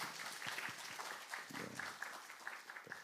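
Applause from a chapel Mass congregation at a Catholic university, greeting a newly baptised professor and five students: a steady, moderate wash of clapping throughout, with a few louder individual claps standing out near the front.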